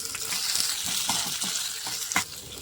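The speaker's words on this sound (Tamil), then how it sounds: "இதில் 4 காரத்துக்கு 4 மிளகாய், கொஞ்சமாக பூண்டு, கொஞ்சமாக இஞ்சி இதை போட்டு வதக்கிக்கலாம்" Chilies, garlic and ginger sauté in a pan, giving a steady close sizzle broken by soft stirring scrapes and a few sharper clinks, with no talking.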